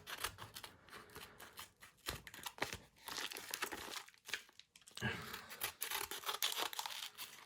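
A mail package containing graded Yu-Gi-Oh cards being cut open and handled close up, with bursts of crinkling plastic, tearing and snipping broken by short pauses, and no talking.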